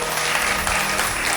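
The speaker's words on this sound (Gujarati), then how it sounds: "જોરદાર તાળીઓ તો રાખો ભાઈ." Listeners at a Bhagavat Katha religious discourse break into a brief burst of thick, continuous clapping that fills the gathering.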